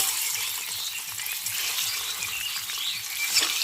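Eggs hit hot oil with turmeric in a pan and sizzle with a dense, crackling hiss, steady and close, with no talking.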